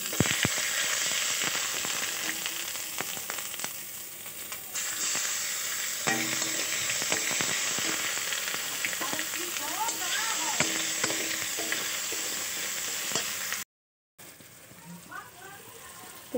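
Sugar, five-spice and garlic paste hit hot oil with a loud, continuous sizzle and scraping stirs, dense crackle throughout and a brief cut near the end before the frying resumes.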